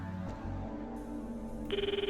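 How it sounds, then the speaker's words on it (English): Phone ringing in the video game Steins;Gate 0, a quiet electronic ring that builds into a rapid pulsing trill near the end, heard over a soft background soundtrack. "The footsteps overlap with the sound of the ringing."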